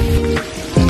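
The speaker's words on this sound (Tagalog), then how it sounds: "at inabutan kami ng ulan, so medyo bumagal yung trabaho namin" Rain falls on a house construction site, a loud near patter on surfaces that dips briefly in the middle and then swells again.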